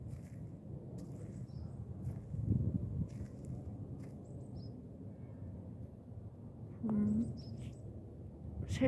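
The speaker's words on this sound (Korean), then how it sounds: "맑아요. 새소리가." Birds sing in a park lined with cherry trees: faint, sparse chirps drift high above a steady low rumble of wind and distant traffic, with no close calls.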